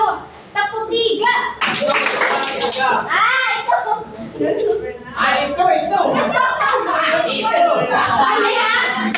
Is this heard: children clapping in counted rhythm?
yes